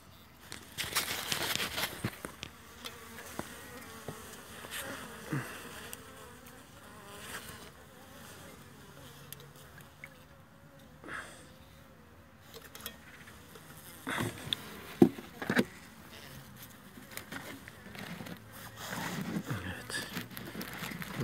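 Honey bees buzzing nearby for a long stretch while being fed syrup, a steady droning hum with occasional louder passes and small knocks and rustles.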